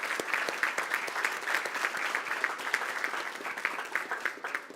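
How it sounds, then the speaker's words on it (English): Audience at a school district board meeting applauding a high school team's district title, a steady, moderately distant round of clapping with no talk over it. "So we'd like to say congratulations to them and a round of applause."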